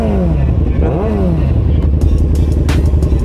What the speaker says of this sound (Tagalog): Ang ganda ng tunog ng motor ko.